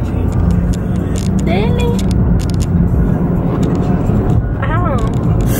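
Steady road and engine rumble inside a small car, constant throughout under a woman's chatter and a few brief higher-pitched vocal sounds.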